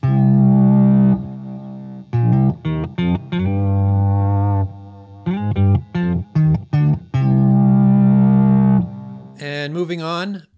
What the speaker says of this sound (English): the drive type he selected is heavy and bassy. So here is what voice 4 sounds like by itself.